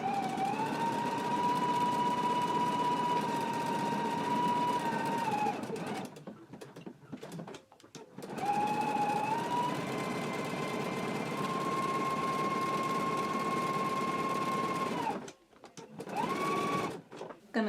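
A sewing machine stitches buttonholes on a jacket, a loud, steady mechanical whir running in long continuous bursts with short pauses between passes.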